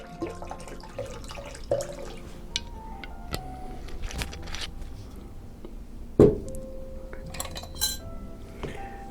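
A cup of spring water goes into a bowl of no-bake purple carrot cake filling, with scattered clinks of utensils and dishes, faint trickling and one sharper knock, close by.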